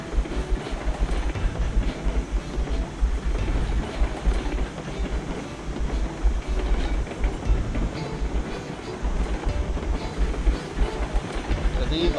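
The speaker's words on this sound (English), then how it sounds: "These are high speed locomotives," High-speed locomotive in the train game Railroad Online, a steady loud rolling rumble with rhythmic clickety-clack of wheels on rail joints throughout, alone without talk.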